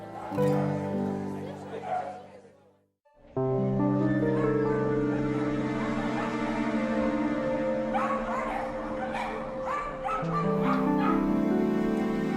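A dog whimpers and yips in high, whining bursts, with some low barking and a voice talking in the background.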